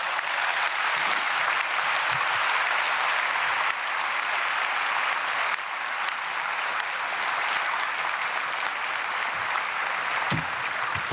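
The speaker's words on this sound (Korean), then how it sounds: "예, 박수로 맞이하겠습니다." A church congregation applauds during a Korean Baptist service, sustained, dense clapping from a large crowd that fills a hall for over ten seconds at an even level.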